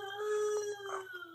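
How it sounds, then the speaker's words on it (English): A dog cries and howls in a long, wavering, mournful tone with whimpering breaks, close and fairly loud, among stray mutts dropped off by people. "She said the dog was crying."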